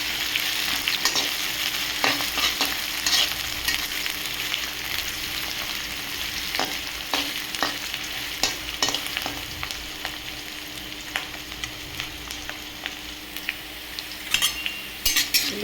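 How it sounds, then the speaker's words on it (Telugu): Onions sizzling in hot oil with green chilies and curry leaves, a steady bright crackle of frying under repeated clinks and scrapes of a stirring spoon against the pan, close and continuous. "ఉల్లిపాయలు అయితే బాగా దోరగా వేగినాయండి"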